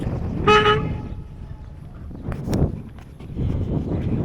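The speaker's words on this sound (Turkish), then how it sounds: "Herhalde tekneler de birbirine korna çalarak selam veriyor." A short boat horn honks once early on as boats greet each other off İzmir, followed by quieter background movement and a few faint thumps.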